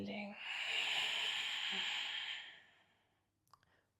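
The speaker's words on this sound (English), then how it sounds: "Breathing in, opening up and exhaling." A long, slow exhale during a stretching exercise, a soft breathy hiss lasting about two seconds before fading out, followed by faint clicks in near silence.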